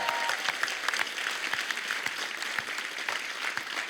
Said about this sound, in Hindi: जोरदार तालियां बनती हैं इसको